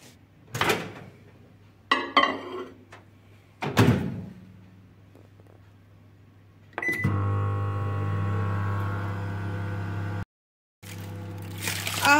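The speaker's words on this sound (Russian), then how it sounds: "Я же поставлю в микроволновку примерно на 1 минуту." After a few thumps and a door clunk, a microwave oven hums steadily for several seconds, stops briefly, then starts humming again.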